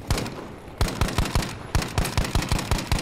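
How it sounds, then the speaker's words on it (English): Rapid bursts of Battlefield gunfire, sharp close shots in quick rhythmic volleys with a short pause between groups, loud and with no voices over them. "Those shots were not beautiful."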